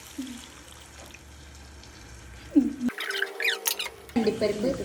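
Boiled water is poured into a paneer butter masala gravy, giving a trickling, gurgling pour with squeaky bubbling splashes in the latter half after a quieter start. The pour is close and fairly clear, with a voice heard faintly in the background.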